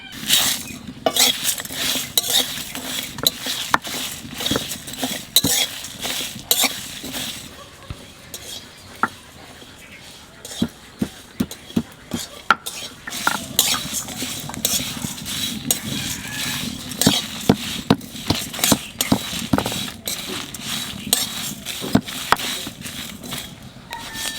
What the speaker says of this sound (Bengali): আগে শুকনো লঙ্কাটা একটু বাজিয়ে নিই